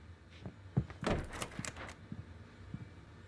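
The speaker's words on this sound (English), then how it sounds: "The door was locked." A locked door in the Alan Wake video game is tried, giving a few muffled thunks and rattles close by, faint overall.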